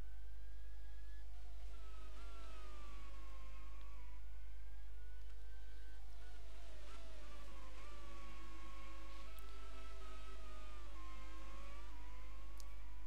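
Formula One race cars at the Hungaroring, including a Mercedes-powered car, whine past under a low steady hum, with high engine notes rising and falling through gear changes and several cars overlapping.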